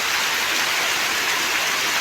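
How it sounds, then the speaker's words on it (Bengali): Steady rain falls beside a mosque in Chhagalnaiya upazila, Bangladesh, a dense even hiss of drops on surfaces that stays loud and unbroken throughout, with no voices. "এই যে দেখুন বৃষ্টি যদিও আজকে বাংলাদেশের অনেক জায়গাতে বৃষ্টি হচ্ছে"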